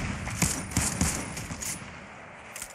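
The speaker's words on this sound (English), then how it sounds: "I'm getting shot at from where we killed that guy." Rapid bursts of gunfire crackle in a battle royale video game match, several sharp shots spaced in quick succession at close range over a steady background wash.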